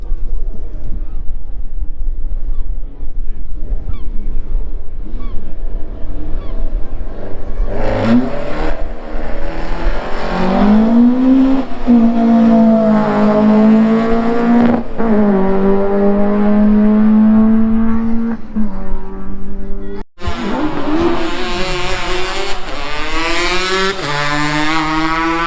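A Peugeot car revving hard, its engine note rising and holding in strong harmonic bands, with tire squeal and rubber smoke at close range; a brief cut drops the sound before the engine roars back, loud throughout.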